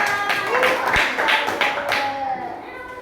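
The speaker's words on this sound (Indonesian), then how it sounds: "Mbak Bella, tepuk tangan." Children in a classroom lesson clap together in a short burst of quick, uneven hand claps, close by, with voices and a tonal chime-like sound running underneath.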